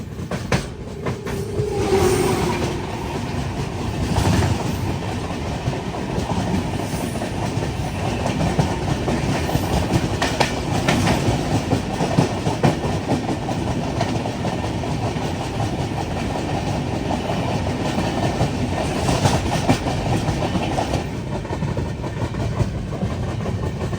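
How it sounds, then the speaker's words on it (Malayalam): The Cholan Express from Chennai Egmore to Tiruchirappalli rumbles past in a loud, continuous roar of rolling wagons with rhythmic clickety-clack from the wheels over the rail joints, steady and close throughout. "ചെന്നൈ എഗ്മോറിന്ന് തിരുച്ചിറപ്പള്ളിയിലേക്ക് പോകുന്ന ചോഴൻ എക്സ്പ്രസ് ഇപ്പം വരും."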